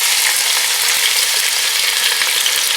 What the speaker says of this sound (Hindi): हांडी में मैंने तेल जो ऑलरेडी गर्म कर लिया हुआ, इसमें हम ऐड करेंगे जो हमारे अनियन है।